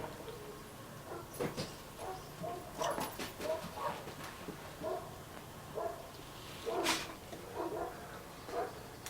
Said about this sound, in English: It's making those dogs bark over there.